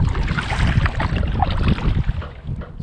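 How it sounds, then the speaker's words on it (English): A kayak is paddled out from a marina toward the Galveston State Park jetties, with close, rushing water swishes and splashes mixed with gusty wind noise throughout. "So I'm going to get to paddling and just kind of scope things out"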